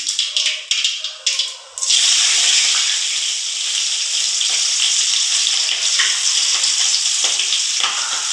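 Onion and mustard seeds with cumin hit hot oil and erupt into a loud, steady sizzle after a few short stirring knocks, the frying hiss filling the pan continuously and close by.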